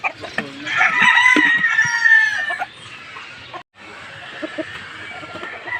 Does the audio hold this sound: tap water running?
no